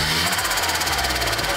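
Turbocharger compressor surge: a rapid fluttering chatter, a quick repeating whoosh-flutter over a loud engine roar.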